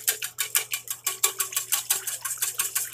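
A whisk beats an egg into a mac and cheese mixture in a bowl, with quick, steady metallic clicks repeating in an even rhythm, close and clear, with no talking.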